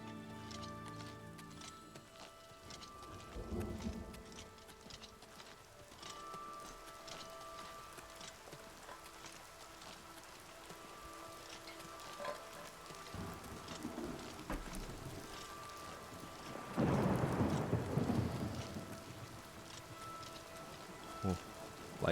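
Rain falls steadily through a thunderstorm in the video game Oblivion Remastered, with a loud rumble of thunder near the end, and a few hoof clops sounding under the rainfall.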